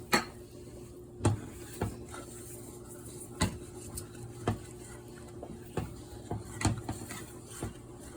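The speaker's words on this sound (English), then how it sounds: "I'm gonna add some onion powder and I'm gonna continue stirring it." Béchamel sauce is stirred in a pan, a soft low bubbling bed punctuated by regular taps and scrapes of the utensil against the pan's side.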